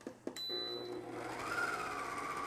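Electric mixer beating macaron batter for cinnamon roll macarons, starting with a few clicks and then a steady loud whir that builds in intensity, close and continuous with no talking.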